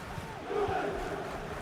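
A roaring stadium crowd in a football video game match involving Juventus, a steady swell of chanting and cheering that holds at moderate level throughout.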